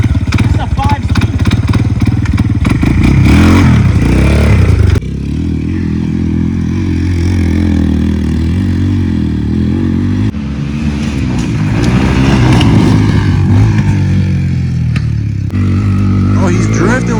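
A car with a 5-speed manual being driven hard and drifting, engine roaring loud and close with revving surges and rattling, while people talk over it throughout.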